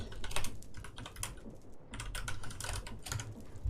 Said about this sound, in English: Keyboard sounds.